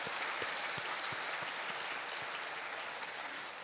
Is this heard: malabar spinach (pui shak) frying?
no